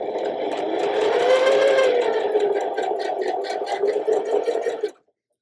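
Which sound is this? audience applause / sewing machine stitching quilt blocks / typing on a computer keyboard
sewing machine stitching quilt blocks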